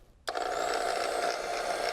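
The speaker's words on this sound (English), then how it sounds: "if you put all of this soup into the blender and turn it on" A kitchen blender set on low kicks on abruptly and runs with a steady, even whir while blending pea soup, close and moderately loud with no talking.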